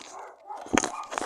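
Dogs bark in a brief, close burst of sharp yelps inside a van, over a busy background hum.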